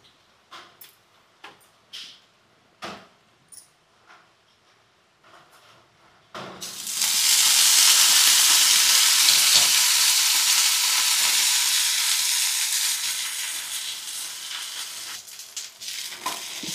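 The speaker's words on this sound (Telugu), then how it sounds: "ఇప్పుడు ఈ పుదీనాను వేయించుకుందాం." Fresh mint leaves drop into a hot pan and burst into loud, steady sizzling frying, preceded by a few separate clinks and taps and easing slightly toward the end.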